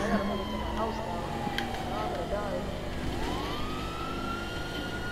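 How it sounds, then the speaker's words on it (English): A police car siren in the GTA 5 video game wails in long rising and falling sweeps under steady traffic and engine noise, with a voice speaking over the scene. "my siren's on for a reason."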